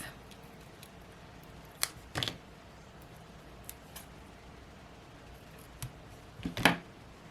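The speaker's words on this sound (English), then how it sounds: "I'm going to cut some of these in half" Paper strips cut in half with scissors for a handmade card make a few faint, crisp snips and clicks, scattered and spaced apart in a quiet room.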